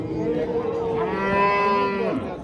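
One cow at a livestock market moos loudly and nearby, a low drawn-out call that bends downward in pitch, with a soft murmur of activity behind it.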